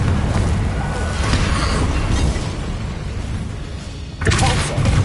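A Confringo fire spell in the wizarding game Hogwarts Legacy bursts with a sudden fiery blast near the end, over a continuous rush of combat noise.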